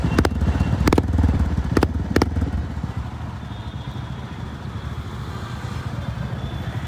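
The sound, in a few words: Honda H'ness CB350 motorcycle with Red Rooster exhaust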